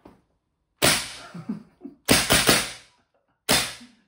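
A Tokyo Marui Saiga 12K gas blowback airsoft shotgun fires three loud, sharp shots, the middle one a quick multi-crack burst, each followed by a short metallic ringing decay with silence between.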